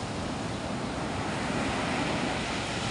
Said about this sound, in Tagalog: Ang lalaki ng alon, no?